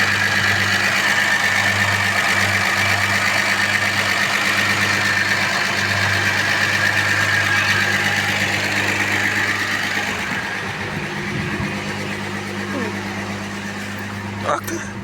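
A 1986 Peugeot 505 V6 with a five-speed manual idles steadily after fresh spark plugs, giving a continuous low, even hum. The running stays loud throughout and softens slightly near the end, with no words spoken.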